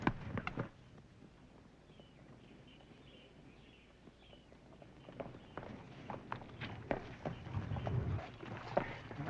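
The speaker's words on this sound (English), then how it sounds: "Thank you for the use of your horse, Doc." Horse hooves clip-clopping on hard ground in a Western setting, a series of irregular knocking steps that start near, fade slightly, then grow louder again.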